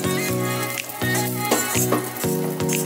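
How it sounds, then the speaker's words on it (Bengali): Aloo paratha sizzles in white oil in a pan, a steady close frying crackle broken by repeated tonal scraping strokes as it is pressed and turned. "দেখো কেমন করে ভাজছি।"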